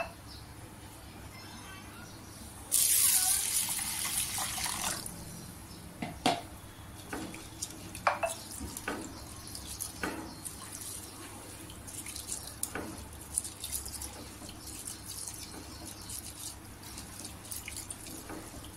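Rice is rinsed by hand in water for kheer, starting with a burst of running tap water, then scattered sloshes, swishes and drips of grains being washed in a vessel, with occasional utensil clinks.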